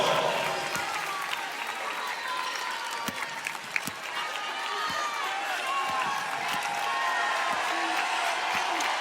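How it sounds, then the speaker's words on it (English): Home crowd at a Texas women's college basketball game, an NCAA tournament first-round matchup against Fairfield, gives a sustained roaring ovation and applause throughout, with cheering swelling in the arena while a commentator talks over it. "And you can hear the ovation already from the host team crowd."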